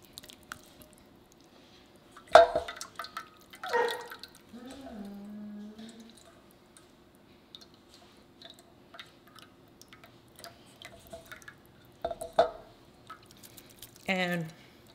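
Gravy strained out while cooking a Popeyes copycat: scattered drips, wet squishes and taps come in irregular bursts between quiet stretches, with a faint voice-like murmur in the middle.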